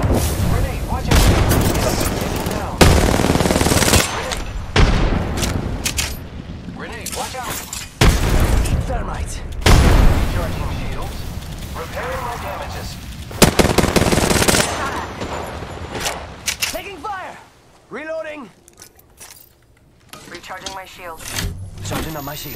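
Enemy gunfire in the Apex Legends video game, with dense bursts of automatic shots and explosive booms under loud, excited player voices calling out during a squad fight.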